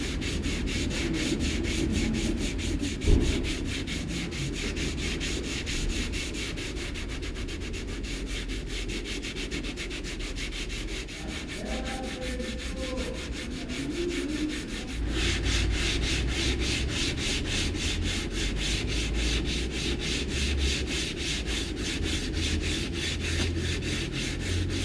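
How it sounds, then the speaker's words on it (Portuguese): Polyester body filler being hand-sanded with 80-grit sandpaper, a close, steady rasping scrub in fast back-and-forth strokes that continues throughout with a brief pause near the middle, no talk. "Eu vou primeiro dar aquela quebrada com uma lixinha 80, mas sem tirar muita coisa, só para endireitar a massa."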